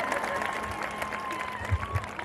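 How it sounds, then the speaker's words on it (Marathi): An audience claps at a live tribal cultural gathering in Palghar, a short burst of scattered applause from the crowd under a steady tonal hum, with some talk mixed in. "आवडलं तर टाळ्या वाजवा जरा, खोट्या खोट्या वाजवल्या तरी चालतील."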